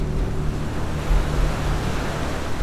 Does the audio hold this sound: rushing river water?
yes